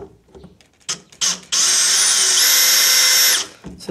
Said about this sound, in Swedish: Nu ska jag först borra igenom plasten.